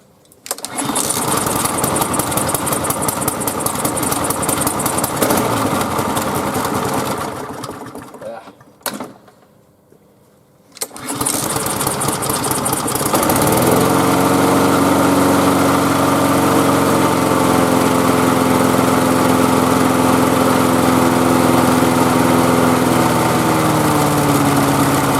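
A small pull-start engine fires up on full choke in spring and runs loud and steady, with a brief dip into near silence partway through before settling into a constant drone.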